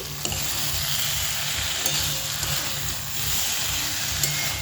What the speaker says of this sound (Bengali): পোস্তটা ডাঁটা আর আলুর সঙ্গে ভালো করে ভাজা হচ্ছে